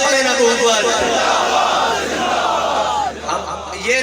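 A large crowd at a rally chants the religious slogan Tajdar-e-Khatm-e-Nabuwat in unison, a loud, dense roar of many voices with rhythmic rises that carries steadily throughout.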